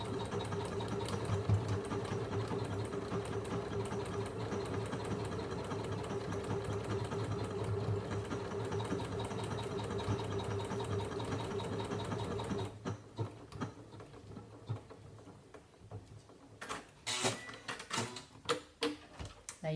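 A Janome Memorycraft 9900 sewing machine embroiders a name in a rapid, steady mechanical chatter, then stops and trims the thread with a few sharp clicks and clunks.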